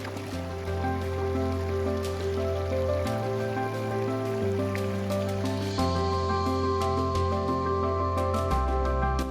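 Mountain stream on the Markha Valley trek in Ladakh, a steady rushing flow of water heard close and continuous throughout, with no one speaking.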